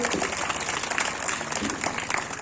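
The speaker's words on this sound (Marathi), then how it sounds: "जरा टाळ्या वाजवा सगळे विद्यार्थी." Students clap together at a school retirement ceremony for a headmaster, a dense, steady burst of applause filling the hall for a couple of seconds with a murmur of crowd beneath.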